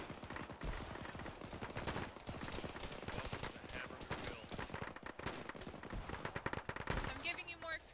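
Dense gunfire in the military video game Arma during a ShackTac assault, rapid overlapping shots and bursts crackling continuously and loudly for several seconds, with a brief voice near the end.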